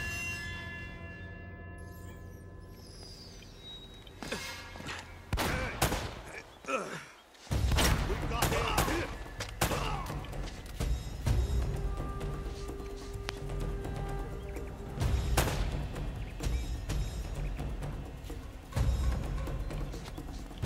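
Enemies shooting in Uncharted: Drake's Fortune, with a run of sharp cracks and bursts, some loud and close, spread over the clip alongside game sound and talking voices.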